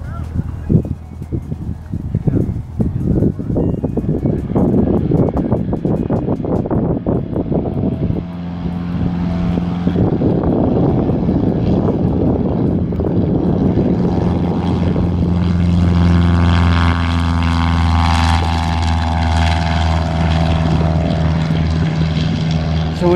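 A Cessna 150 light airplane's propeller engine building power for takeoff, a close, rough droning roar that steadies into a loud, sustained hum as the plane accelerates down the runway.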